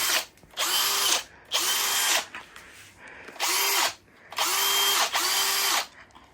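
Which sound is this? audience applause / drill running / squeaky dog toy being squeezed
drill running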